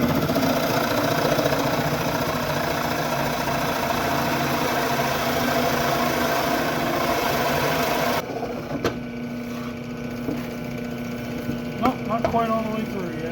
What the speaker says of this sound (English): I'm just drilling these holes at that angle